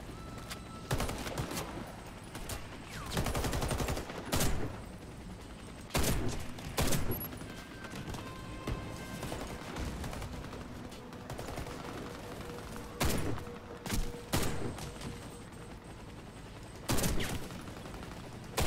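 Bursts of automatic gunfire aimed at the player in the shooter game Warface, with clusters of sharp rapid shots separated by quieter gaps, some volleys close and loud and others fainter, without speech.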